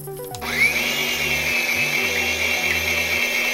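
An electric mixer whirs through white chocolate cake batter ingredients, a loud steady motor drone that starts abruptly and runs continuously with no voices.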